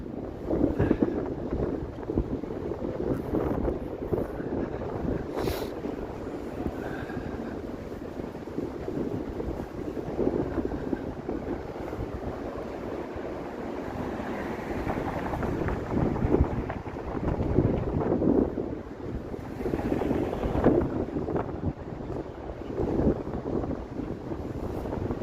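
Cold, bitter wind buffeting a microphone outdoors in Toronto on a Wednesday evening, a constant low rumbling roar with gusty surges, loud and close, no one speaking.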